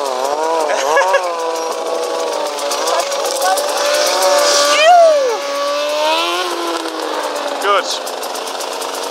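A KTM EXC 300 two-stroke dirt bike engine runs at low, steady revs during a riding lesson, its tone rising briefly as the throttle opens a little, with a person speaking briefly over it.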